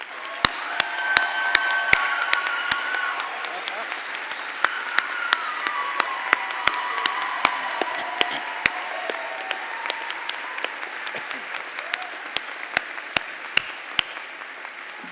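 Audience at a commencement ceremony applauding steadily for about fifteen seconds, a dense wash of clapping with sharp individual claps standing out and a few faint cheers mixed in.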